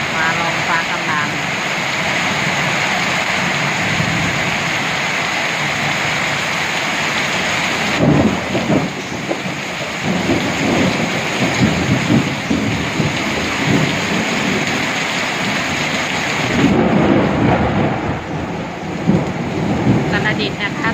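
Heavy nighttime rain pours steadily in Uttaradit, Thailand, with repeated loud thunder rumbling through, the strongest crashes around the middle and again near the end, while someone talks over the storm.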